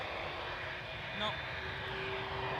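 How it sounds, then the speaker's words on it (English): An American Airlines Boeing 787 Dreamliner, flight 221 bound for Dallas Fort Worth, makes a steady broadband jet roar at an airport, fairly quiet and distant, with a faint tonal whine, and a voice is heard over it. "And that would be this Dreamliner from American Airlines. Flight 221, going to Dallas, Fort Worth, Texas"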